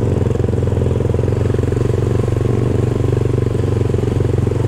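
A Honda CRF 250 motorcycle ploughs through deep flood water with its engine submerged, the motor throbbing loud and close in a steady, low pulsing drone without pauses.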